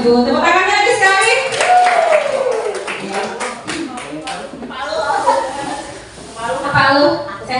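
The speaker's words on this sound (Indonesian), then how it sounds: "Tepuk tangannya lagi sekali." A school audience of parents and children claps along, scattered hand claps mixed under a presenter's loud voice and chatter, with the clapping most noticeable in the first half.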